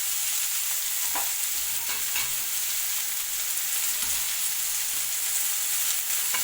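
Cabbage sautéing with onion and tomato in a pan for semiya upma, giving a steady, close hiss of sizzling oil with a few soft scrapes of stirring and no voices.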